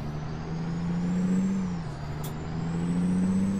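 Peterbilt 389 truck engine in American Truck Simulator, a loud, steady low drone that dips and rises slightly, with a brief high hiss like an air brake partway through.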